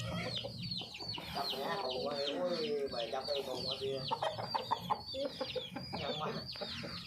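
Fighting-breed chickens cluck and squawk close by on a farm, with busy overlapping calls and sharp bursts as a bird is caught, while people talk in the background.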